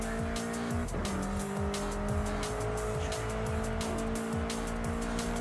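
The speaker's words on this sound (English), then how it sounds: "Still a big skid there." Car tires skidding and squealing in Forza Horizon 5 during a dirt-to-tarmac transition, with engine revs rising and falling under repeated short screeches, steady and close throughout.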